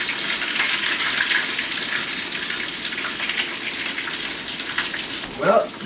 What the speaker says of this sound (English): the chicken been frying, and I think that it's about ready